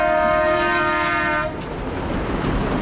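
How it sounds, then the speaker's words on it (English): A train horn blasts loud and steady for about a second and a half, then cuts off, leaving the rumble of passing rail cars. "That's the train."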